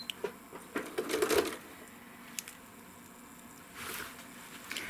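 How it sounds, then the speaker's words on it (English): A sewing machine stitches a swirl pattern on a quilt in short, uneven bursts of rapid mechanical chatter with quiet pauses between runs, close and moderately loud, with no voices. "So I'm going to stitch a swirl."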